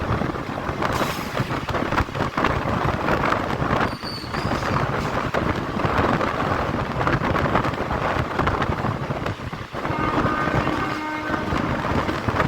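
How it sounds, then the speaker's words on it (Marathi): A freight train led by a WAG7 locomotive rumbles past at close range, loud and continuous, with clattering wagons and wind buffeting the microphone. "ही एक फ्रेट ट्रेन आहे आणि या गाडीला लीड करतोय WAG7 लोकोमोटिव्ह"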